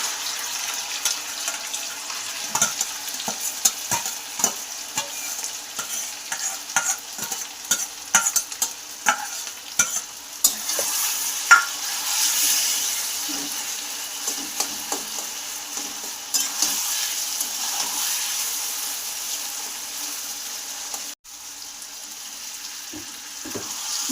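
Grated taro frying with onions in hot oil, a steady close sizzle with repeated scraping and stirring strokes of a spatula in the pan, continuing without talk for the whole stretch.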